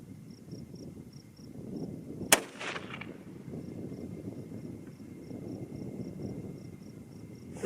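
A single sharp .25-06 Remington rifle shot loaded with IMR-4350 powder cracks loudly at close range, then fades into quiet outdoor ambience with a faint electronic beeping.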